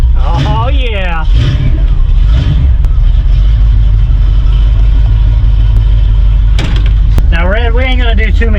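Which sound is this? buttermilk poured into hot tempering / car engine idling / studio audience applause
car engine idling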